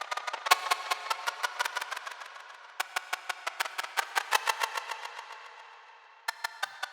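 Modular synth chords feed a modulated, frozen delay, giving a bright, metallic wash broken by rapid, evenly spaced glitchy clicks that stutter in bursts and briefly pause, played alone without any voice.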